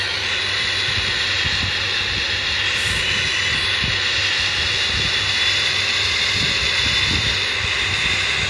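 A plane's engine in the video game Gangster Vegas drones loud and steady without a break, a constant roar with hiss on top and no talk.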